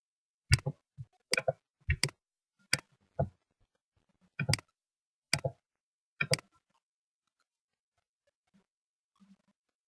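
Sharp computer mouse clicks come close and distinct, about ten in small uneven clusters of one to three, separated by silence, fading to a faint click or two near the end.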